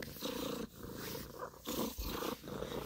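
A pet cat purring close up, a steady rumbling purr that rises and falls with each breath in several loud cycles, with no talking.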